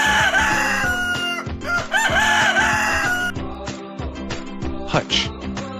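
Chickens in a coop cluck busily while a rooster crows loudly several times up close, the crowing fading into scattered clucks and squawks.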